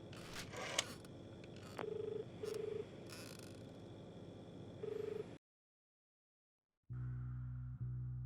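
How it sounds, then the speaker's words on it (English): A telephone dial tone plays in the video game Cartel Tycoon. A steady electronic hum carries a few short beeps, cuts to silence for a moment, then returns as a lower, buzzing drone. "The dial tone hums, then cracks."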